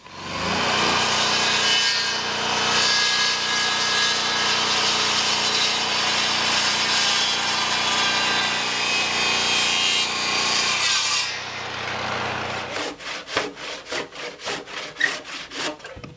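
A handsaw cuts steadily through the end of a timber log being squared off for a timber-frame post, rhythmic rasping strokes close and loud, then slowing to a few separate strokes near the end.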